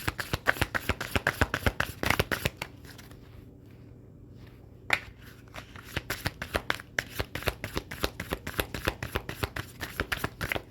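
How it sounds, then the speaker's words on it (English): Rapid riffling snaps of a deck being shuffled, in quick bursts with a short pause midway, close and crisp. "I need to just shuffle and take the card on the bottom"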